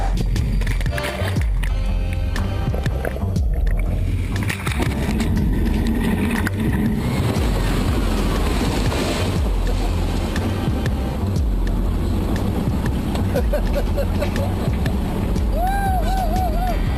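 An amphibious car driving into and floating on the Rhine-Main-Danube Canal in Bavaria's Altmühltal, a steady loud engine drone with water wash and wind buffeting the microphone, continuous throughout.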